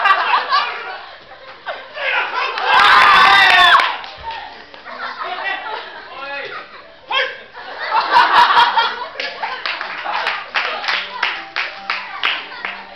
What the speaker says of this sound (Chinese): 老师，他是为我鼓掌哎